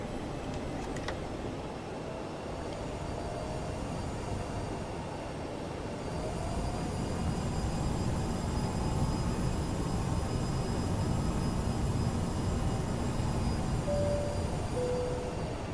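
Aerosoft CRJ airliner engines in Microsoft Flight Simulator taxiing toward the runway, a steady jet hum and whine that swells slightly partway through and holds constant, with no voices.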